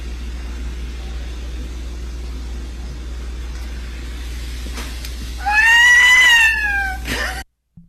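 Against a steady low hum and faint background noise, a person lets out a drawn-out, wavering imitation of a cat's meow, loud and close.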